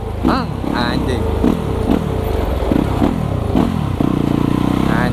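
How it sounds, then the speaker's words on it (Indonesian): A Yamaha YZ250FX supermoto engine revs hard and repeatedly, loud and close, with clattering and people talking over the roar. "Dengarin, geber sekali."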